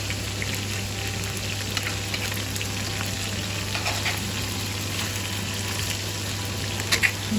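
Chicken frying in oil makes a dense, continuous sizzle, close and even in level, with a few sharper crackles near the end and no voices.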